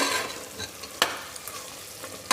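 Tomato pulao fries with garam masala in a pan, giving a soft sizzle with two sharp scrapes of a spoon, one near the middle and one at the end. No one speaks.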